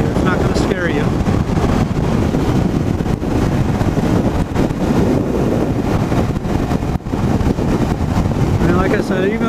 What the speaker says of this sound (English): I'll downshift a little bit just so you can see